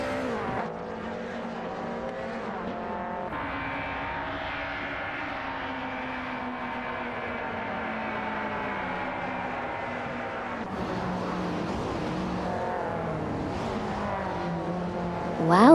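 Several race cars battle closely on track in an AI-driven racing game, engine drones layered and sustained with pitch rising and falling as they jostle for position, loud and continuous with a brief swell near the end.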